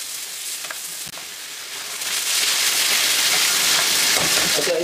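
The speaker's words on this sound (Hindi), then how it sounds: "इसको 1 से 3-4 मिनट ऐसे भूने" Meat for Irani karahi fries in a hot pan, a loud, close, broadband sizzle that swells after a couple of seconds and then holds steady, with no talking.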